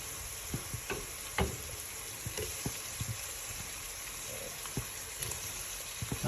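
Crab curry ingredients fry in a pan with a continuous, close sizzle and occasional soft knocks and clicks from stirring. There is no talk.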